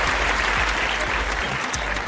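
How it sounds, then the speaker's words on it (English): Audience applause welcoming a featured rap artist onto a show, a dense steady clapping that fills the whole stretch without letting up. "let's give a round of applause to our boy Lonnie Flays"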